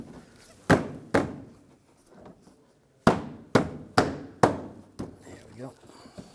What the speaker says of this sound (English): And just push the bumper in, just clips in place.